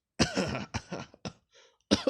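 Several short, harsh coughs come in quick bursts, close and fairly loud, with a brief pause before a final cough.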